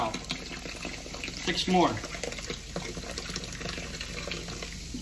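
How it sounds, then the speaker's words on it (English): Mountain Dew soda being poured out, a steady liquid splash and trickle running throughout, with speech over it. "I got 6 more cases of soda to pour out."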